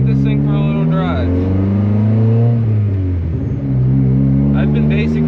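A budget turbo-built car pulls away from a stop, its engine note climbing and falling through smooth, loud revving as it drives off, with no talk over it.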